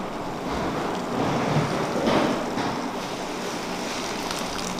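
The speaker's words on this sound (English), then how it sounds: "Yeah, I put the hot water here." Steady rush of hot water being poured over spicy Maggi Pedas Giller instant noodles, close and continuous, swelling slightly in the middle before settling back to an even pour.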